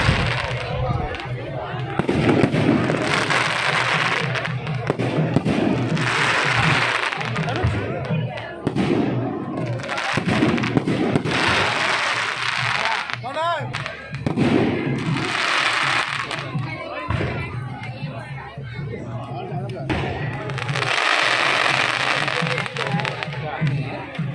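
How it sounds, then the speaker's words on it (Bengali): Firecrackers bursting at a wedding celebration in Mumbai, loud cracking volleys and thumps coming in repeated bursts with short lulls, crowd noise and voices mixed throughout. "এত বাজি ফাটছে, আর বিয়ে বাড়িতে সেই কারণে প্রচুর মজা করেছে।"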